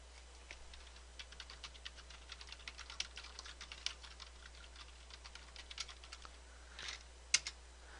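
Text is typed on a computer keyboard during a Photoshop exam exercise: soft, rapid, irregular key clicks run steadily throughout, fairly faint and close, with a slightly louder clack near the end.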